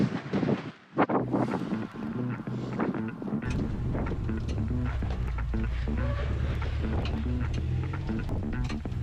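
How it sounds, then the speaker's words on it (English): Gusty wind buffets the microphone outdoors at Sand Hollow, Utah, a steady loud rumbling roar running nearly the whole time with a brief lull near the start. "It's a little windy, a little chilly,"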